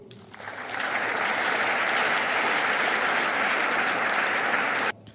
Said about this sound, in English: Pretty muted applause there for such a rallying cry.